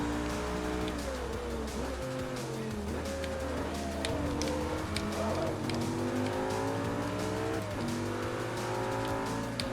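A race car engine in Forza Motorsport 3 roars steadily close up, its pitch climbing and dropping through gear changes, with brief tire squeals and other cars audible around it.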